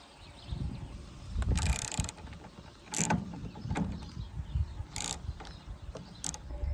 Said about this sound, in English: we are going to remove the hinge pivot bolt